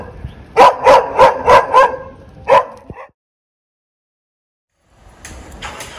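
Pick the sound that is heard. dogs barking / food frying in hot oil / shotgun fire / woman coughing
dogs barking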